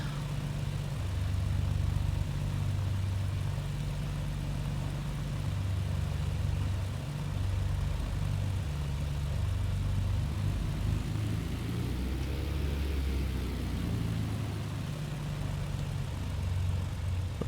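Steady propeller-engine drone from a Britten-Norman BN2 Islander in Microsoft Flight Simulator 2020, idling after start with a constant low hum and slight pitch sweep midway, continuous and fairly loud with no talk.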